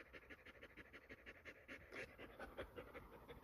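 A dog panting inside a campervan in winter, quick rhythmic breaths repeating steadily at close range, moderately loud with no talking.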